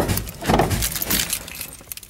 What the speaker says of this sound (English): Let's get in, turn the key, and see what happens.